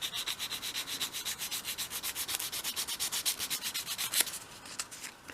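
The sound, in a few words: sanding a bevel on the edge of a wooden dolls house base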